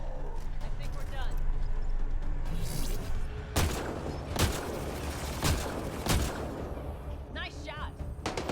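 Gunfire in the Mass Effect Andromeda video game: several loud, sharp blasts and booms ring out in the second half over a low rumbling game backdrop, with voices speaking in between.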